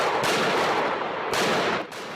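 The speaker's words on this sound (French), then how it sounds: "Les bruits assourdissants des balles retentissent dans tout le quartier." Rapid, deafening automatic gunfire from assault rifles during a daytime terrorist attack on a Paris street, sustained bursts filling the space with a brief break near the end, no voices.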